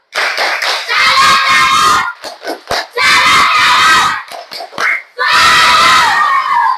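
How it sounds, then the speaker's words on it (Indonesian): A school class performs a rhythmic clap cheer in the classroom, with several loud bursts of group clapping and children's shouting separated by short pauses. "Maka Ibu Guru minta semuanya tepuk salut"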